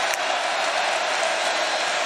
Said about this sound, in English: Listen to this crowd on 3rd and 3